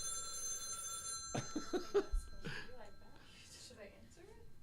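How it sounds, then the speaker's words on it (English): A red landline telephone rings indoors, its trilling bell steady and fairly faint under an interview conversation, with people talking over it throughout. "It's a red phone."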